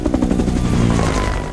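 A helicopter's rotor thumps steadily with a dense engine roar, loud and continuous throughout, with no voices.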